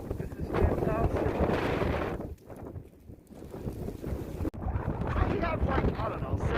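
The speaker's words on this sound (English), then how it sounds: "It's windy, it's cold." Steady wind roars across the microphone with broadband rumble and gusts on a cold, snowy blizzard day, continuing throughout under faint background voices.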